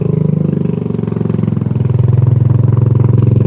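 A motorcycle engine labours up a steep village road in Sindangkerta, West Bandung, its steady low drone continuous and close, holding a strained, heavy note throughout with no talk.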